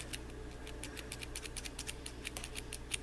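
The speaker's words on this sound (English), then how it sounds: "Come on, scissors, cut." Repeated crisp snips of scissors cutting crochet yarn, a quick irregular series of sharp clicks close by with a faint background hum.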